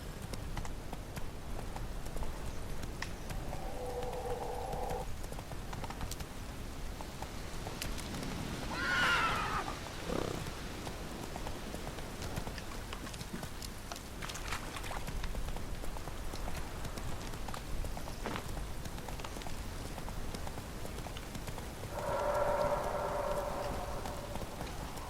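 A horse gallops through steady rain in The Witcher 3, hooves drumming under the patter of raindrops, with two short whinnies breaking through.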